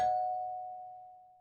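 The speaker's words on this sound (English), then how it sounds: "Doorbell." A doorbell rings once with a clear single tone that rings on steadily and fades slowly, sounding alone in a quiet room.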